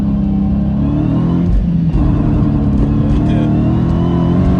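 A Dodge Hellcat roars under hard acceleration in second gear, its engine loud and close with a rising drone, while voices come through faintly.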